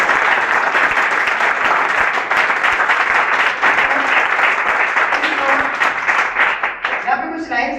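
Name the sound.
audience clapping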